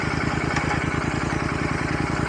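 A 650 motorcycle weighing about 200 kg gives a steady, throbbing exhaust note, close and loud, with an even pulsing rhythm and no talk.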